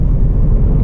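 A Ford Mustang Mach 1 idles or cruises in drive with its exhaust in quiet mode, giving a brief, close, steady low engine rumble with no voices.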